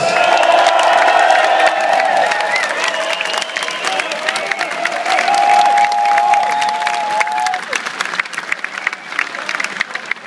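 A concert crowd applauds and cheers loudly for a trumpet player during a show in Antwerp, with whoops rising over dense clapping while a sustained instrumental tone and a voice carry over the top.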